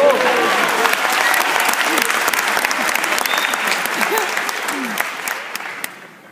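An audience breaks into loud, sustained clapping for a stand-up comedian at a live show. The applause is dense and continuous and fades out toward the end.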